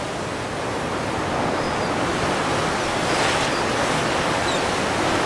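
Sea waves surge and break along the shore in a broad, continuous roar, with wind blowing across the microphone and no gaps.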